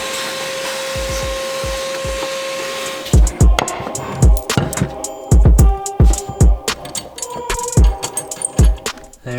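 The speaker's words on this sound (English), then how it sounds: "Now I'm gonna vacuum this up because you don't want to touch that stuff." A vacuum cleaner whines steadily, then chatters and clatters loudly as it sucks up drilling debris left from boring a mounting hole on a vehicle for a light bar, with irregular rattles and knocks over the drone.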